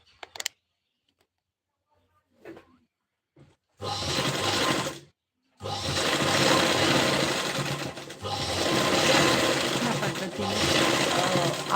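A sewing machine stitches a sleeve, starting after a few faint sounds with a close, steady mechanical whir, pausing briefly, then running again in long continuous bursts.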